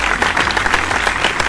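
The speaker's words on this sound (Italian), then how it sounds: "un applauso per lui" Audience applauding at a fashion event, a brief burst of dense, even clapping from a crowd, fairly close and steady with no voices over it.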